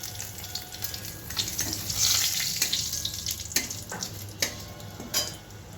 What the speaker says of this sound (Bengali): জিরে তেজপাতা দিয়েছি জিরে দিলাম আর শুকনো লঙ্কা